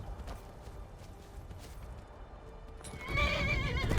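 A horse in the Skyrim video game neighs and whinnies as it bucks its rider, with clip-clopping hooves beneath and a shrill, rising whinny closing out the stretch over faint background.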